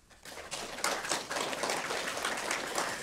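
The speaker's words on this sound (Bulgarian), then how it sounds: "нека аплодираме членовете на журито на 40-я юбилеен конкурс Искри" Audience applause at a children's creative arts contest ceremony, rising after a quiet start into steady, dense clapping from a crowd that continues to the end.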